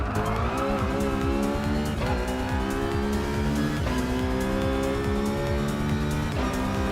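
Gr.4 race cars, including a Scirocco Gr.4, scream along a track in Gran Turismo Sport. Dense engine whine rises and falls through gear changes, with tire squeal mixed in, loud and continuous with no talk.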